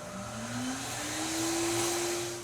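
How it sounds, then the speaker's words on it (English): A vacuum cleaner runs steadily inside a Tesla Cybertruck, a continuous whining drone whose pitch climbs slightly, moderately loud and close with no talk. "We're gonna go ahead and clean the inside as well, and then vacuum it really quick"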